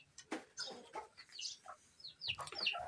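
Aseel chicken chick clucking and chirping in short, irregular bursts, fairly close, with rustling and faint background noise between calls.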